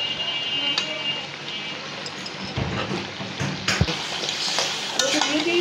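Potatoes and chicken stirred and frying in spiced oil for a country-chicken curry, a steady sizzle broken by clanks and scrapes of a spoon against the pot, with brief soft talk in the background.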